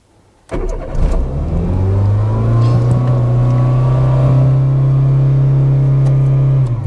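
A Citroen Saxo engine roars to life and holds a loud, steady high-rev drone for several seconds, pitch barely dropping, with the throttle stuck open.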